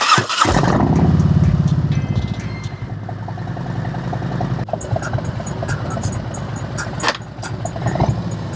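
A motorcycle rides past with freshly installed Progressive Suspension shocks, its engine revving loudly up close at first, then settling into a steady running rumble with brief throttle blips, no talking.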